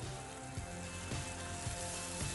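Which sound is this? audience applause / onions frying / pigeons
onions frying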